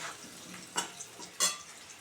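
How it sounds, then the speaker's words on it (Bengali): Cauliflower pieces tipped into a pan of browned, frying potatoes for a wedding-style vegetarian curry, giving two sharp clattering hits over a low, steady sizzle, with no one talking. "এবারে ফুলকপিটা দিয়ে দেবো এর মধ্যে"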